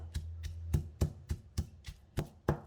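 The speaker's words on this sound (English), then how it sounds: "Add all the toasted shrimp paste and pound it to mix with the chili and garlic." A pestle pounds toasted shrimp paste, chili and garlic in a mortar, about nine steady, evenly spaced dull thuds, close and clear, with no one speaking.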